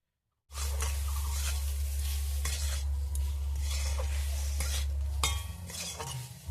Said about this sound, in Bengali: দিয়ে ভালো করে লবণটাকে মিশিয়ে নেব আমের সঙ্গে